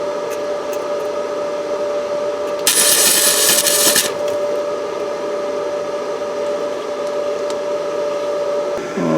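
Flux core welding on an exhaust pipe gives a short, bright, crackling hiss lasting about a second and a half over a constant loud background hum, then the steady hum continues alone.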